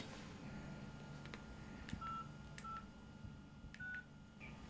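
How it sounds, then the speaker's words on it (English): Telephone keypad tones from a call being dialed on a radio phone-in, a handful of short steady beeps spaced unevenly over a faint background hum, with no talking. "I have to ring a lad today and make arrangements with them"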